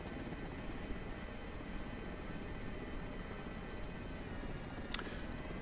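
An H145 helicopter in a flight simulator game produces a faint, steady low rotor and engine drone throughout, with a short high click near the end.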